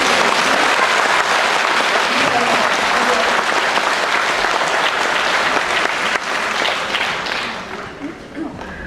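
An audience claps for a Ukrainian folk dance ensemble at a concert, sustained loud applause that holds steady before thinning and fading in the last seconds.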